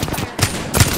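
R99 submachine gun firing in a video game, a short loud burst of rapid shots with a brief gap partway through, close and sharp.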